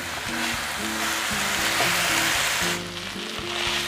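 Grated coconut serundeng for Madurese nasi babat frying in a pan, a steady loud sizzle with scraping and stirring strokes from two spatulas, close and continuous with no talking.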